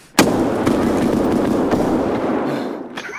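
A grenade goes off in the game Escape From Tarkov, starting with a sharp close blast that gives way to a long rumbling roar, with a fainter thud near the end.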